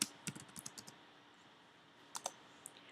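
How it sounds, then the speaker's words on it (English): Keys tapped on a computer keyboard while a search term is entered in a browser, a short burst of quick clicks, a pause, then a few more keystrokes, close and fairly quiet. "you're going to type in flipbook"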